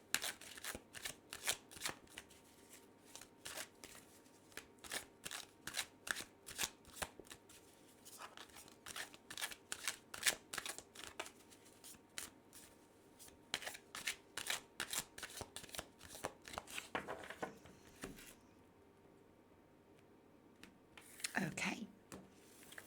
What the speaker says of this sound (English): So let's shuffle this deck several times.